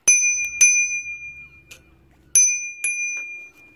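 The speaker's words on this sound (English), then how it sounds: "Bell." A bicycle bell rings several times indoors: bright, close dings in two pairs with pauses between them, each ring fading quickly.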